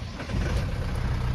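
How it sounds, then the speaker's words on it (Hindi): A Mahindra 4x4 engine runs just after starting, a steady low idling rumble close by with a slight rise in level, no voices. "गाड़ी हो चुकी है स्टार्ट"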